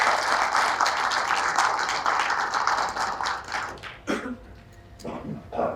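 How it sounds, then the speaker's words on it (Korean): A crowd applauds with dense, steady clapping that swells briefly and then fades into scattered claps toward the end. "여러분들이 박수를 한번 보내드려야 될 것 같습니다."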